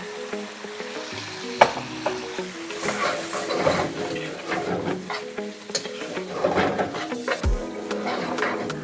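Fried rice with soy sauce sizzles on high heat in a pan, stirred with steady scraping and clattering; a voice talks briefly over the continuous frying.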